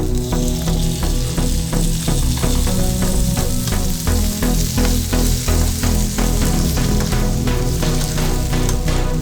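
Brinjal pieces and tomato sizzle loudly in a hot pan, a dense steady frying hiss punctuated by regular scraping clicks of stirring, close and continuous with no talking.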